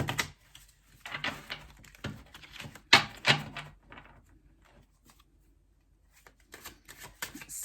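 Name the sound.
shuffling a deck of tarot cards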